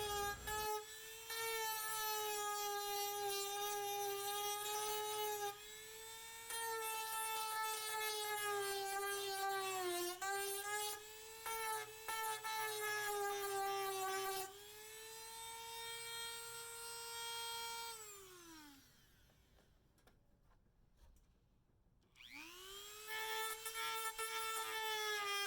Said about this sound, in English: The patch isn't pretty, so I use the Dremel to clear up any excess,